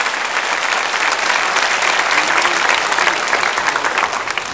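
A church congregation claps together in a sustained burst of applause, dense and steady throughout, with no voices standing out.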